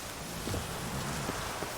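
Steady rain pours down in The Witcher 3 Wild Hunt, falling in a swampy area as a constant soft hiss with faint patter, even and unbroken throughout.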